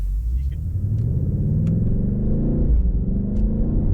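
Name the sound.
BMW M8 Competition engine rumbling and accelerating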